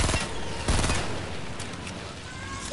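Automatic gunfire in a PS4 video game, a dense rattling burst near the start over a steady background din of game sound.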